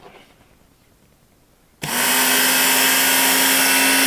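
A Work Sharp WSKTS belt knife sharpener starts up abruptly after a quiet pause, then runs as a loud, steady motorized whir with a faint grinding edge, heard close and without speech.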